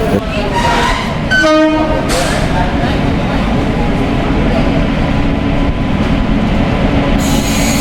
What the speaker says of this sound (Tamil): ட்ரெயின் 1 மணி நேரம் லேட்டுங்க, எப்படியோ வந்துருச்சு